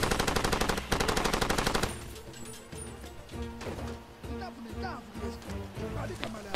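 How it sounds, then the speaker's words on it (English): Rapid bursts of machine gun fire from a mounted gun in the video game Far Cry 2, loud and dense at first, then scattered shots and explosions echoing over game ambience. "Okay, we'll mount our machine gun."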